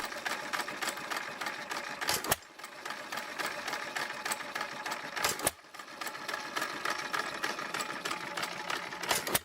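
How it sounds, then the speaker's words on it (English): A 1912 governor-controlled engine with a heavy cast-iron frame and large flywheels chuffs in a rapid, steady exhaust rhythm, broken by two brief silent gaps before the beat resumes, heard alone and fairly close. "This characteristic gave the engine its distinctive rhythmic pop-silence-pop exhaust note that enthusiasts cherish today."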